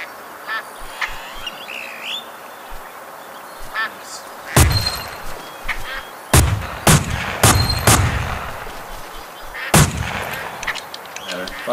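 Gunshots ring out in the Duck Dynasty video game as ducks are hunted: a few sharp, loud blasts and short bursts stand out over quacking and honking birds and quiet background game ambience.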